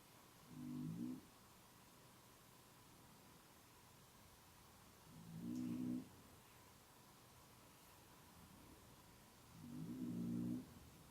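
Faint, slow snoring close by, three soft rumbling breaths spaced several seconds apart over a quiet hiss.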